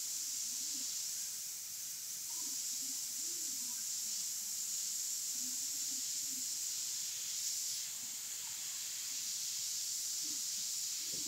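An airbrush hisses in a constant fine spray while white highlights go onto a face painting, a steady close airy stream with faint low murmurs beneath and no clear talk.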